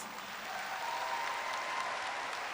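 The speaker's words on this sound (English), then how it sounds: "Let's now give them a thunderous applause." Steady applause from a sizable crowd at a high school graduation, fairly distant and even throughout with no pauses.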